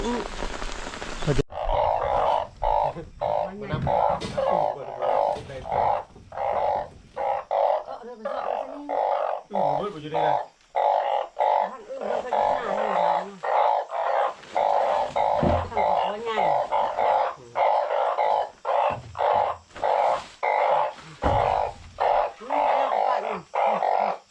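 Frogs and narrow-mouthed toads croak in a dense, pulsing chorus through steady rain, with calls repeating rapidly and continuously over the patter. Faint voices surface now and then.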